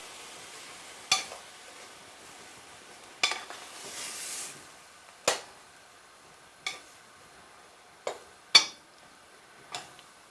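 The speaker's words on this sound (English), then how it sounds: "Then give that a stir." Veggie mince stirred in a pan, heard as sparse sharp spoon taps and scrapes every second or so over a faint low sizzle, close and fairly quiet, with no talking.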